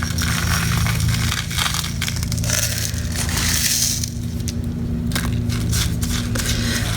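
Green glass pieces for a resin sculpture bowl being handled, a loud continuous crunching and grinding rattle of glass fragments shifting close up over a steady low hum.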